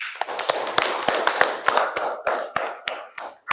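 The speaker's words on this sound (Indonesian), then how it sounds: "kasih tepuk tangan dulu untuk yang sudah menjawab tadi" A class claps for students who answered, a short burst of sparse, uneven hand claps from a small group, fairly close and alone without talk.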